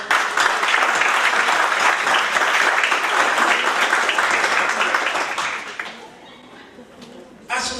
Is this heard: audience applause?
yes